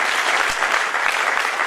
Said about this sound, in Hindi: एक बार तालियां बजा करके हमें आदेशित कर दीजिए